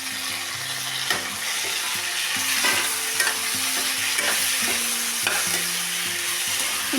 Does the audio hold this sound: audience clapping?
no